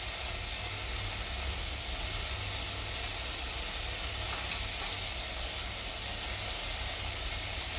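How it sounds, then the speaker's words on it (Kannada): Ching's cabbage Manchurian sauce sizzles steadily in a hot frying pan, a continuous close hiss and crackle of frying that holds evenly throughout with no talking. "ನಾನೀಗ ಹಾಕ್ತಾ ಇದ್ದೇನೆ ಚಿಂಗ್ಸ್ ಅವರದ್ದು ಕ್ಯಾಬೇಜ್ ಮಂಚೂರಿಯನ್ ಸಾಸ್"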